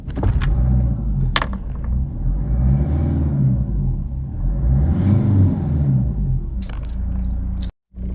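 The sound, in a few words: Ford Escort Mk5 LX turbodiesel engine being started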